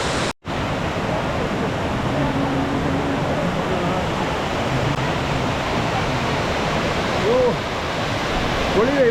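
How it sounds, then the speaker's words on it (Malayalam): An unnamed waterfall in a Kerala forest rushes with a steady, loud, enveloping roar, with faint traces of a voice later on. "പേരൊന്നുമില്ലാത്ത വാട്ടർഫോളാണ്"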